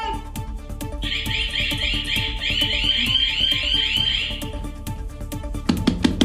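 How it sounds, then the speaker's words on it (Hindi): An alarm bell rung repeatedly from inside a lift stuck between two floors, a loud sustained ringing tone running for about three seconds over a cluttered, noisy background. "इस बीच महिलाओं ने कई बार सिक्योरिटी अलार्म बजाया"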